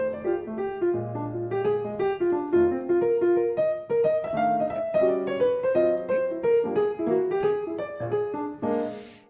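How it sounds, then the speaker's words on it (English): A bebop jazz phrase played on a melodic instrument runs in quick, continuous notes, stretching outside the key over sustained harmony for about nine seconds, clear and close with no talk. "if you actually just played in the typical bebop way, but then stretched outside the key, it might sound something like this."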